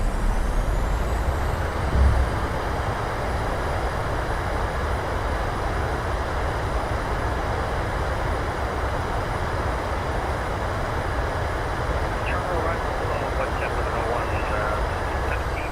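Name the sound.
PMDG 737 thrust reversers on landing rollout, video game MSFS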